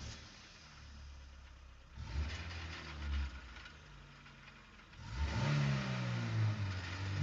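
A stock sound effect of an ordinary car engine revving, a mid-pitched motor that rises in two surges over a low rumble. The revs are close and clear, with no talking.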